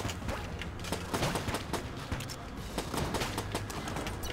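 Rapid gunfire in the video game Enter the Gungeon, a dense stream of sharp shots and zappy bullet bursts that runs through the whole stretch. Loud and continuous over game background noise, with no talk.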